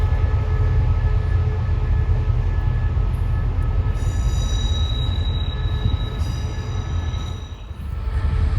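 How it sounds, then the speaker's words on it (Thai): A diesel locomotive on the railway near Salaya station rumbles loud and steady with a constant low drone, and faint high wheel squeal comes through in the middle. "อันนี้ก็จะเป็นคสวายอีกหัวหนึ่งนะครับ เป็นหมายเลข 5232 นะครับ"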